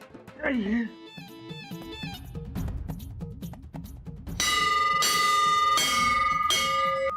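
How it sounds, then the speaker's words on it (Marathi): A child rings a school bell in a classroom, with bright repeated clangs growing louder and more insistent toward the end, mixed with children's voices and talk. "शाळा चालू आहे ना, मग घंटी नाही वाजवायची"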